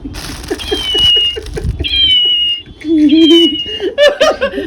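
Toy cats give out high, wavering electronic meows and crying sounds, several overlapping in quick succession, close and fairly loud, along with rattling handling noises.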